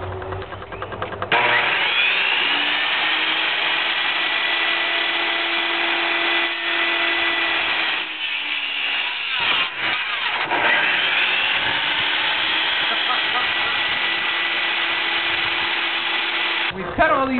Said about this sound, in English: We've got our trusty table saw here that looks like it's gonna get the job done.